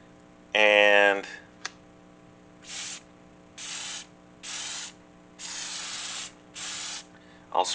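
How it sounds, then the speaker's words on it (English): Aerosol spray can laying a light coat on a horizontal holster from about 10 to 12 inches, a loud hiss first, then five short separate bursts of spray, close and clear. "I'll spray a light coat."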